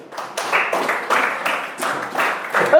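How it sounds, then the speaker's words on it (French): A classroom group claps in a slow, regular rhythm, about seven or eight distinct collective claps, fairly close and moderately loud, with no other sound in between. "C'est quels applaudissements comme ça?"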